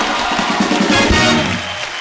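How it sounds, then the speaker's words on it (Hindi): A television studio audience bursts into loud, steady applause, with dense clapping and some cheering filling the whole moment on a comedy talk show. "एक बार रणवीर सिंह के लिए जोरदार तालियां हो जाए।"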